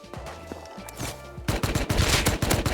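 Rapid bursts of gunfire in the video game Rust, a quick volley of sharp shots building into a dense fusillade over a few seconds, loud and close without talk.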